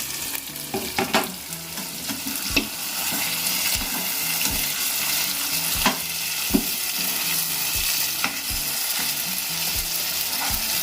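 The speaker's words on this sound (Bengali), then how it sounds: "একটু নেড়ে চেড়ে দিই ভালোভাবে।" Chicken chaap being stirred in a frying pan, with a steady sizzle of frying under repeated scraping strokes of a spoon against the pan at an irregular rhythm, close and fairly loud, no voices.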